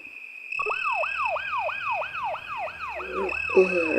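A wailing police siren sweeps up and down in rapid repeated cycles, fairly close and steady, with no voices.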